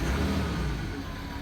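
A Ford Ranger pickup engine revs up, a loud close mid-pitched roar that swells then eases slightly within a brief burst.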